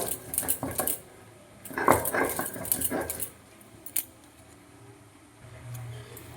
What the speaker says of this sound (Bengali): আমি বেটে নিচ্ছি সব মশলা।